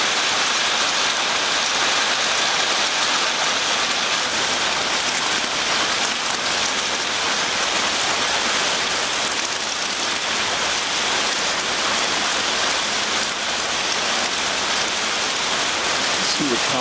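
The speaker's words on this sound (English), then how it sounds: "I think I'd call it hail." Hail falling hard outdoors in Pagosa Springs, Colorado, in May: a dense, continuous hiss of pellets striking surfaces, loud and even throughout.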